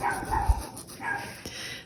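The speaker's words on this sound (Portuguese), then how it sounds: "Os cachorros deu pra latir." Dogs barking in short bursts near the start, then a couple of fainter barks, over a quiet, muffled background with no talk.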